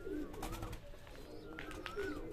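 Young Madras Giribaz and Andra Malwai pigeons coo softly at close range, their low, rolling calls repeating in short phrases against a quiet background.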